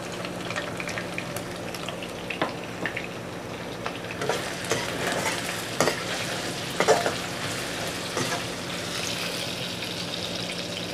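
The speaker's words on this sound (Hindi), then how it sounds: "ऑयल में अच्छी तरह फ्राई कर लेना है" Okra and potatoes fry in hot oil with turmeric, giving a steady close sizzle with scattered spatters and scraping stir strokes throughout, no voices.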